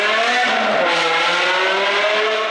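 A BMW E60 M5 engine revving hard through an F5 full exhaust system, loud and close, a rising and falling multi-toned howl that sustains across the whole stretch.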